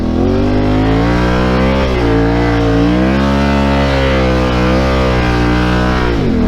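Yamaha Tenere 700 adventure motorcycle ridden through sand, its engine held at loud, steady high revs with the pitch rising and falling as the throttle works, close to the microphone.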